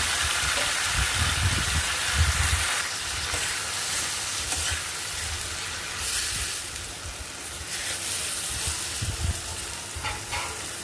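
Onions and tomatoes fry in a pan with a loud, continuous crackling sizzle, thicker in spots as the food is stirred, and no voices.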